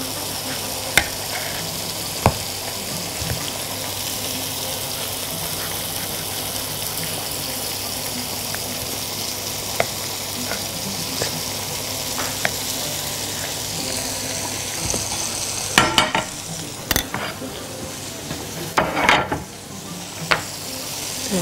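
Food frying in a pan, steady sizzle throughout with scattered clicks and clatter, then louder scraping and knocking near the end as pieces are turned over; no one speaks.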